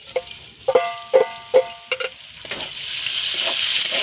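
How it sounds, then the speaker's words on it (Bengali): A few sharp knocks and clinks, likely a spoon tapping the pan or bowl, come first, then ground spice paste goes into hot oil with fried potatoes and a rising sizzle fills the rest, close and fairly loud. "আর এর মধ্যে আমি বাটা মশলাটা দিয়ে দেবো।"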